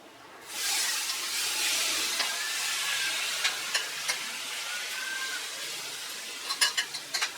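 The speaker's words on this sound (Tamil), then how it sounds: "சூடானதும் 1 மணி நேரம் ஊற வச்ச ப்ரானை அதில் சேர்த்துக்கலாம்." Marinated prawns sizzling on a hot tawa, a sudden rush of loud frying hiss that settles into a steady sizzle with a few sharp pops and clinks near the end, close and with no voices.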